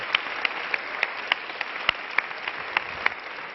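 Steady audience applause at an UNCTAD award ceremony, even clapping from a modest crowd with a few sharper individual claps standing out, no speech over it.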